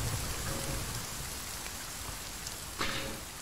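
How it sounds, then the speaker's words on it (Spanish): Steady rain in the survival video game The Forest, a soft, even hiss of falling drops on surfaces throughout, with a faint brief rumble near the end. "Lo puto malo de la lluvia es que vamos a poder andar medio metro porque vamos a coger frío"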